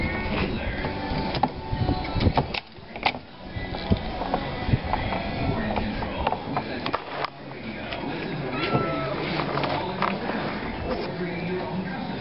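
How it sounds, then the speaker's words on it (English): An electric power winch on a 1937 school bus runs steadily with a continuous mechanical whir and grinding drone, occasional clunks breaking through, loud and close throughout. "Power winch."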